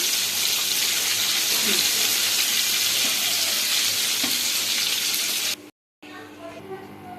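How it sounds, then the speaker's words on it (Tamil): Suzhiyam sweet dumplings deep-fry in oil with a continuous dense sizzle and crackle up close, briefly cut to silence before the frying resumes. "நம்ம ஒவ்வொரு உருண்டையாக எடுத்து இந்த மாவில் இது பண்ணி அப்படியே நம்ம எண்ணெயில் போட்டு பொறிச்சிக்கலாம்"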